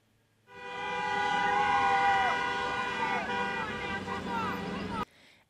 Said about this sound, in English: called for drivers to honk their horns in support